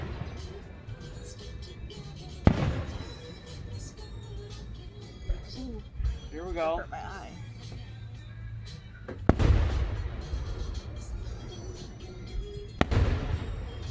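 Distant fireworks go off outdoors in three dull, spaced booms with rumbling tails, while people talk and react nearby between the blasts.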